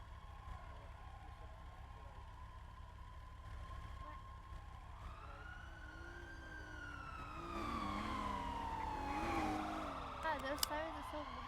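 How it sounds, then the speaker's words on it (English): Police and fire emergency vehicle sirens wail and sweep up and down in pitch, growing louder partway through, with people talking underneath. "God, those sirens are so loud."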